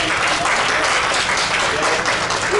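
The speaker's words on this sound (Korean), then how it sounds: "우리 일어나시면 박수로 환영하겠습니다." A church congregation claps to welcome newcomers, a steady, even wash of applause with voices mixed faintly underneath.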